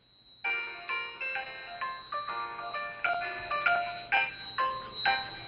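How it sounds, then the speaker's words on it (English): A phone ringtone plays a bright, repeating melodic tune of chiming notes for several seconds, clear and alone, going off during an online research investigators' meeting. "And somebody's ringtone is very entertaining."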